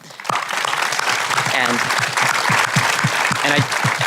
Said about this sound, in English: just a huge round of applause for them